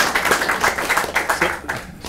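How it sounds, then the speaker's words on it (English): Audience at a rugby show in a bar clapping for a quiz winner, a dense run of quick claps that fades toward the end. "give this man a round of applause"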